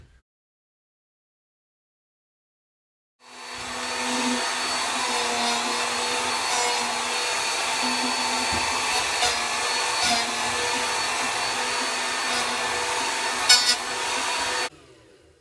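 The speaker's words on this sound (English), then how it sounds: "I'm going to let the router finish cutting the centerpiece out" A power router cuts out a wooden centerpiece. After a few seconds of silence it starts with a sharp whine, holds a steady loud high-pitched motor roar for about eleven seconds, then cuts off abruptly.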